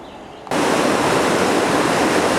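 A brook on the Falling Waters Trail, a mountain trail in the Appalachians, rushes in a loud, steady wash of flowing water. It starts suddenly after a brief quieter moment and stays close and constant.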